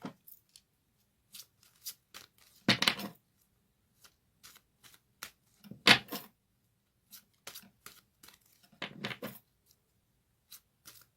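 Oracle decks, including Goddess Guidance, Astrological and Destiny cards, are shuffled close by in quiet, scattered riffles and flicks. A few louder bursts of cards rush together among soft taps and pauses.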